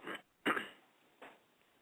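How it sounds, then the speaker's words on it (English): Three short throat-clearing bursts, close and fairly quiet, the middle one loudest, with brief pauses between them. "I had to clear my throat."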